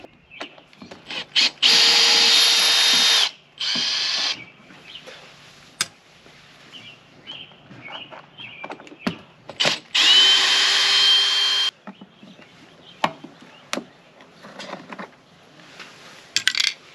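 A power drill backs screws out of a car door panel during a door strut job, with two long bursts of whirring interspersed with short trigger blips, clicks and rattles of parts nearby.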